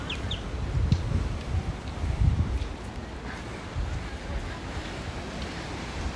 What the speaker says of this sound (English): There are big waves.